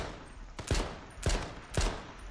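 Three sharp gunshots from the H1Z1 Battle Royale video game, spaced roughly half a second apart, loud and close with brief echoing tails, alone with no talk.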